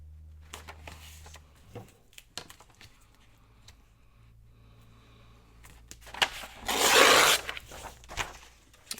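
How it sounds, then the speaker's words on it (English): A piece of old music-page paper being torn by hand, a few faint rustles and small rips followed by a longer, louder tearing rasp near the end, close and without talk. "Let me tear off a piece."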